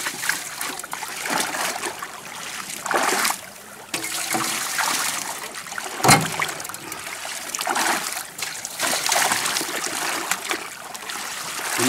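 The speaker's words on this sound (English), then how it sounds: "you're gonna gently run some water over it just like that" Water gently poured from a creek over a gold sluice box, a close splashing and trickling flow with irregular surges and splatters and no talk.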